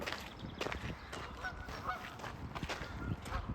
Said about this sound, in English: Wow, it's a goose.